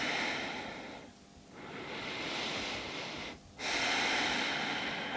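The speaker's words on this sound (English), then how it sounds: "Take a couple breaths here." Slow, deep yoga breaths taken while holding a pose, loud and close, long airy inhales and exhales separated by brief pauses, with no talking.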